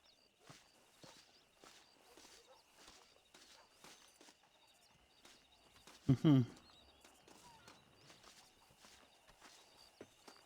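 Horse hooves clip-clopping at a walking pace in the video game Red Dead Redemption, quiet and regular, with a brief louder snort or whinny midway and faint ambient birdsong.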